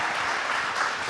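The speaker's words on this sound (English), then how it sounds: "We'll remind the audience that applauding actually takes away from the time that the candidates have to speak" Audience applause at a congressional candidates' forum: a short, even burst of many hands clapping at moderate distance, dense and unbroken throughout.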